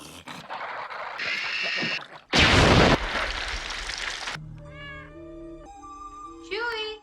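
A cat meows several times in short, clear, rising calls near the end, following a loud burst and other film sound effects and voices.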